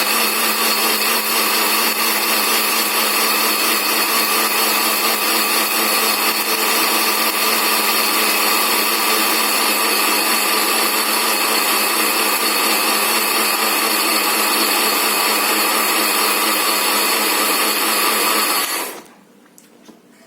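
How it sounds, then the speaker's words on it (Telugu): A kitchen mixer grinder blends grated coconut with water, a loud steady high whine that runs without letup for most of the clip before cutting off abruptly near the end. "మళ్ళీ మనం ఇందాకట్లాగా మిక్సీ వేసుకుందాం"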